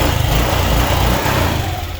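A Honda Click scooter engine runs just after starting, following repair of a burnt ECU socket, with a close, loud buzzing rumble that fluctuates slightly as the revs rise and settle.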